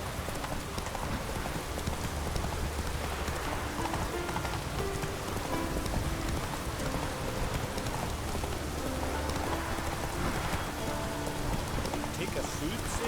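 Rain falling steadily in The Witcher 3: Wild Hunt, a constant hiss of drops on surfaces accompanied by horse hooves clopping, with game characters talking over it.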